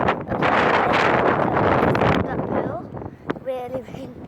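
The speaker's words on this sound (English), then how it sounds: "Really windy." Strong wind buffets the microphone outdoors for about two seconds, then eases into gusty rumble while a voice speaks over it.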